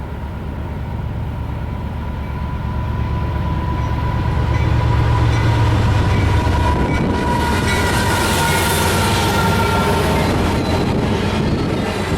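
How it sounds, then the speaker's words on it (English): Norfolk Southern 11N, a westbound autorack freight train out of New Jersey bound for Michigan, rumbles past in Northeast Ohio, a loud, close, continuous roar of rolling cars with faint clickety-clack and rising hiss, no voices. "this train was Norfolk Southern 11N, a New Jersey originated Autorack train headed west for Michigan"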